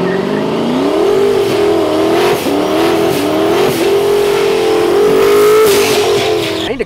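A race car engine revs loudly and steadily close by, its pitch rising and falling a little across the burst. No voices can be heard.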